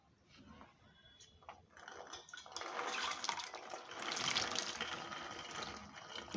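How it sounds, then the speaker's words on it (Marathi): Vegetables such as potatoes and brinjal are washed in water, with splashing and pouring that swells in the middle and stays steady, faint and close, with no talk. "2 पाण्याने धुवून घेतली मी भाजी आणि पाण्यात ठेवली आहे"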